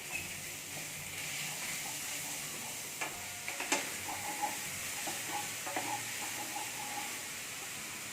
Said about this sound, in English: So in small batches add the keema along with the onion and just fry it well.